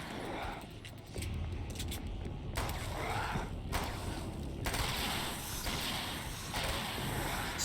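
Gunfire from a gun in the video game Alan Wake's American Nightmare: several sharp, loud bursts crack through a dense, noisy background.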